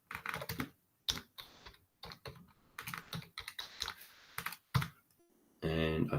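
Rapid computer keyboard typing while entering login credentials, a dense run of close, crisp key clicks in short bursts with brief pauses, ending in a louder sustained burst of sound.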